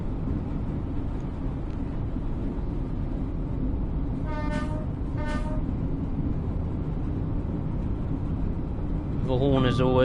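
Horn of an Avanti West Coast Class 805 train in Train Sim World 6 sounds in two short tooting blasts midway, then a third starts at the end, all over a steady low rail rumble of the moving train.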